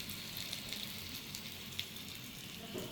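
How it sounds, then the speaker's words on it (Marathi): Slices of suran (elephant foot yam) coated in semolina fry in hot oil with a steady, fairly faint sizzle and scattered light crackles and pops, heard close up with no voices. "इकडे बाकीचे सुरणाचे काप फ्राय होत आहेत हे बघा"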